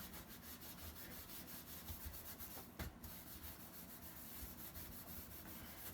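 Steady scrubbing of a dirty oven interior with soaked 0000 steel wool, a continuous close, soft rubbing and rasping texture with one brief sharper scrape midway, no voices.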